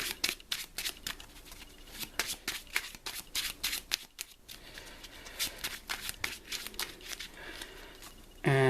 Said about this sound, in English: So let's give our villain deck one last shuffle.